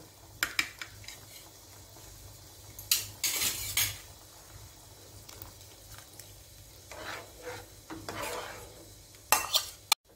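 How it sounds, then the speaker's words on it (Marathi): Besan batter being stirred in a pan for jhunka paneer, with repeated metallic clinks and scrapes of a spoon against the pan over a soft sizzle, coming in irregular bursts close by. "आता हलवून घेऊया व्यवस्थित"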